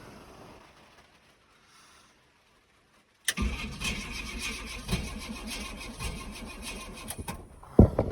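A car engine with an MSD ignition fitted to an HEI distributor and a new flex plate is cranked by its starter without catching; after a few seconds of quiet, the grinding, rhythmic cranking runs loud and steady to the end.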